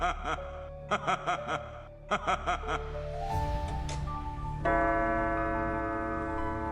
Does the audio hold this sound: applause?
no